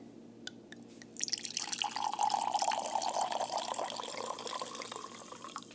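Wine poured into a glass: a quiet start, then from about a second in a steady liquid gurgle and splash that runs on to the end, close by and alone.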